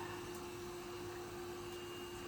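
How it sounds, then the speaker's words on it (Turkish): A vacuum cleaner drones steadily with a constant high-pitched whine and no pauses or speech. "Şimdi çalıştırdım süpürge arkadaşlar."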